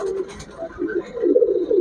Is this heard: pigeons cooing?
yes